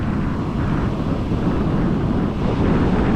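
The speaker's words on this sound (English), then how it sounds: "Big winds, big winds. That'll push these waves in and make them even bigger." Strong wind roars over big ocean waves on a stormy West Coast shore, a loud, steady wash of broadband noise with no pauses.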